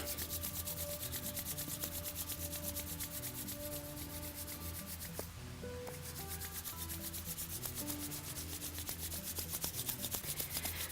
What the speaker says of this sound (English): And then rub your hands together until they become hot.